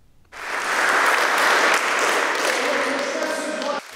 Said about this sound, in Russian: Перед стартовым матчем турнира обязательные аплодисменты в память об учителе.